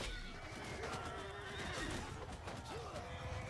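A horse whinnies in Mount & Blade II: Bannerlord battle audio, several rising and falling neighs heard amid clip-clopping hooves and dense combat noise, fairly faint overall.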